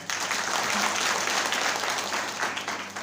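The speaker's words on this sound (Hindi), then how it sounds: "ताली बजाओ आंटी जी के लिए" A church congregation at a Sunday service claps for a woman, a thick, steady round of applause from many hands that holds at an even, fairly loud level throughout.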